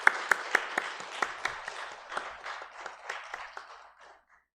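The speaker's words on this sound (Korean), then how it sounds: "우리 인내속 위해서 다시 한번 축복의 박수 드릴까요?" A church congregation at a Christmas Eve Sunday service claps in blessing after a choir's carol, sharp distinct claps at first merging into scattered, fading applause that dies out within about four seconds.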